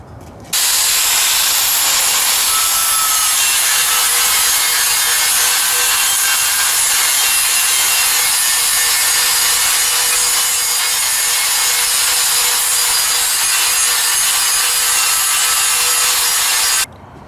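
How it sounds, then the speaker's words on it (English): An angle grinder with a flat disc grinds down welds on a new steel tractor wheel, a loud, steady abrasive hiss running unbroken for about sixteen seconds, close and alone. "I pretty well got all the weld ground back flat on everything with a flat disc"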